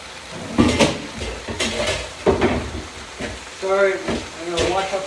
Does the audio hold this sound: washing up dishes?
yes